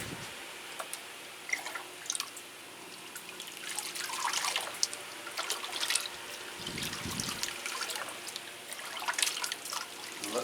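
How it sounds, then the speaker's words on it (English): Water trickles and drips steadily as potted Cattleya orchids get a thorough watering, with soft splashes and scattered droplets over a quiet background, no voices. "give them a good watering"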